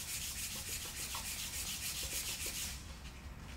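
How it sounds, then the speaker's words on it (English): Sandpaper rubs the finish off a Peavey Reactor guitar's wooden neck near the neck pocket, a close, steady scratchy back-and-forth with even strokes and no talking. "See a nice little sand job going there."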